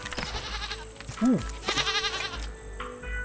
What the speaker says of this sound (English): The goat will get us milk.